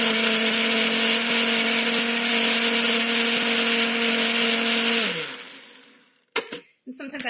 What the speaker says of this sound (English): So we'll get this guy all blended.